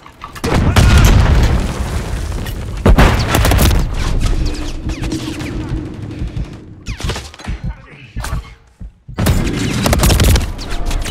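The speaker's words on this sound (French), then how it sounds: "Grenade !" Grenade blasts and gunfire in the shooter game Call of Duty Modern Warfare 3, with loud booming explosions and bursts of shots recurring across the scene alongside some battle voices.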